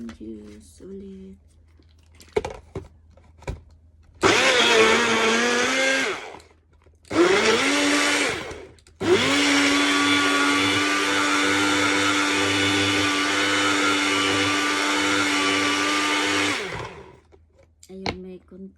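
A blender purées pineapple and greens into fruit juice with a loud, close whirring motor whine: two short pulses, then one long continuous run of about eight seconds.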